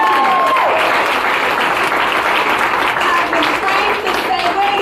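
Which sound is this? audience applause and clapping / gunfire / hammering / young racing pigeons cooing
audience applause and clapping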